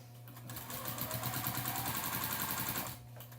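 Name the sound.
sewing machine quilting diagonal lines on a quilt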